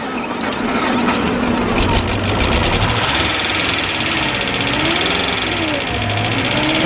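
A V8 Volkswagen Touareg engine runs just after starting, a loud, steady, rough mechanical drone with a rhythmic ticking texture that holds without a break.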